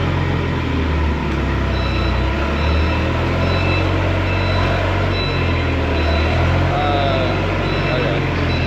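A Nissan forklift engine runs loudly and steadily right after starting, a close, constant rumbling idle with faint beeping tones layered above, and speech partly under the noise.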